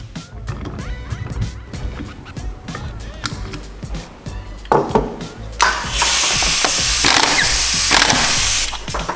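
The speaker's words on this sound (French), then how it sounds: "on va pouvoir le serrer à la clé à choc" An impact wrench tightens the nut on an MVT Premium ignition fitted to a Minarelli AM6 moped engine. Scattered clicks and handling noises lead into a loud, sustained buzzing burst of about three seconds before it stops.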